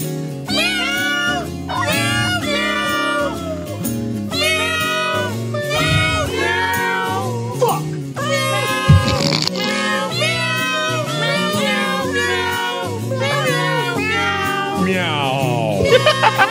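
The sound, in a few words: Recording of cats meowing music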